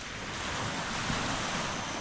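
Sea waves wash steadily onto an island shore, a broad continuous surf roar mixed with wind buffeting the microphone, with no voices heard.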